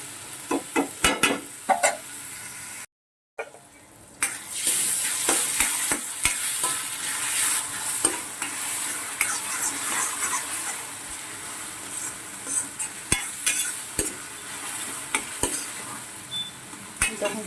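Mutton curry frying in a pan, a steady close sizzle with repeated scraping stirs of a spatula across the pan throughout, no talking, with a brief dropout near the start.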